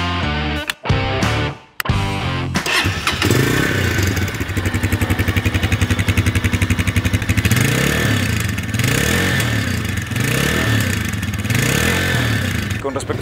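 A Vento Thunderstar 250 Custom motorcycle with a 250cc engine starts with a few sputtering cranks, then runs steadily at a loud, close idle with a rhythmic throb that swells with occasional revs.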